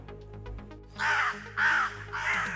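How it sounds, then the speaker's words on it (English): Three loud, drawn-out caws from red-eyed crows outside a freighter, evenly spaced and close, with faint chirping before them and no talk. "Red-eyed crows guard the freighter from the outside."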